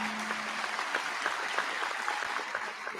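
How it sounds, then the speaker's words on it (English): An audience at a college commencement ceremony gives a steady, moderately distant round of applause, dense clapping that runs for a few seconds and eases slightly at the end. "Another round of applause for Mayor Curry."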